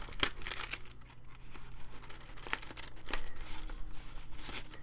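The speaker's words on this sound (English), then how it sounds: "when they're old envelopes and stuff, we get to tucking them in and out" Quiet crinkling and rustling of old paper envelopes being tucked in and out of a handmade friendship journal, a series of soft crisp bursts close by without speech.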